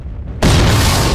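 A single loud explosion in the drone combat game Drone: Shadow Strike bursts in abruptly after a quiet moment and holds as a broad, roaring rumble.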